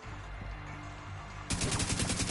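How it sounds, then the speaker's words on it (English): Rapid gunfire from the Division 2 video game, a quieter steady backdrop giving way halfway through to a loud, dense burst of repeated shots that continues to the end, with no talking. "I am shooting for no reason."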